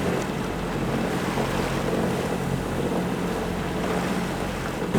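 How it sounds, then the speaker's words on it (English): Sailboat motoring under engine across a calm sea, a steady low drone of the engine mixed with hull wash and water rushing past, plus wind buffeting on the microphone, continuous and with no voices. "As there's pretty much zero wind and it's a little bit of a dull motoring passage so far"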